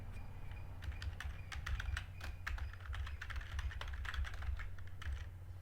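Rapid keystrokes on a computer keyboard click in a quick, uneven stream while a name is entered, close and clear over a steady low hum, with no speech.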